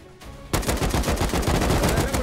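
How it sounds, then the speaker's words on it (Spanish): Automatic gunfire in the survival game Rust starts suddenly after a quiet half second, then rattles on in rapid, loud, continuous bursts to the end. "Por donde escucha los disparos"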